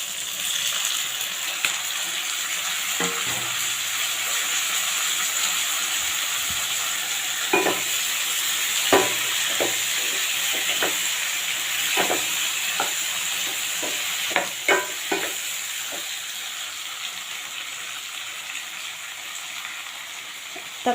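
Tomatoes for chutney fry in a pan with a steady, bright sizzle, while a spoon stirs them in scattered scraping clacks, all close and fairly loud.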